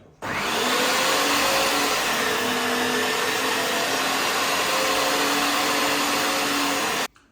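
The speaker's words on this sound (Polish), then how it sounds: "te troszeczkę gorsze kawałki, bardziej tłuste, poprzerastane, zmielmy sobie właśnie na sitku 5 mm" An electric meat grinder mincing fatty, marbled pork neck through a 5 mm plate gives a steady, loud motor drone that starts and stops cleanly, with no speech.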